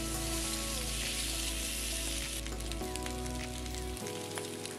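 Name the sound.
potato slices frying in mustard oil in a kadhai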